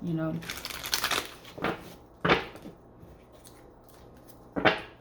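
Several quick papery riffles of tarot cards being shuffled, close by, with sharp crisp bursts separated by quieter rustling and handling.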